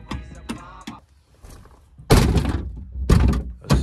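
An Iveco Daily van part is pulled and swings open with a few loud, close thunks and knocks, sharp hits standing out over quieter rattling.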